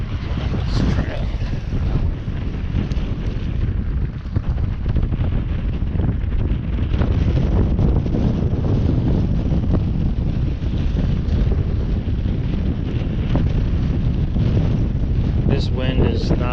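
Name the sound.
strong wind on a jetty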